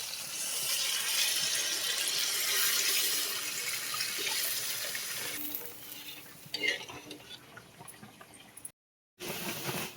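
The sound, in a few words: water being added to cooking masala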